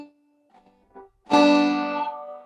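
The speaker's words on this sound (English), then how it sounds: "I want you to hit that first string, just that string only." The first string of an old-time banjo is picked once on its own and rings out bright and clear, decaying slowly after a few faint preceding noises.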